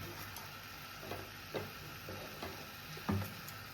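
Raw masala for prawn chilly is stirred in a pan over a low flame, with quiet scraping strokes at a steady pace and a soft sizzle underneath.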